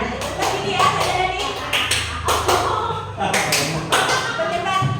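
A group clapping a counted pattern, bursts of hand claps in spaced clusters over a murmur of voices, with a person talking through it.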